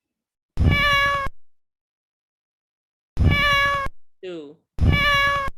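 A library sound effect of a cat meowing plays three times, each meow long, loud and clear with gaps between, and a person speaks briefly in the pause before the third.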